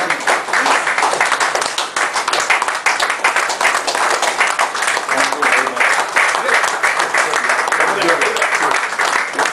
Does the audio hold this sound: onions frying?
no